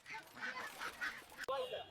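Stolen ducks quacking and honking in a short run of nasal calls, fairly close and mid-loud, with a sharp knock partway through.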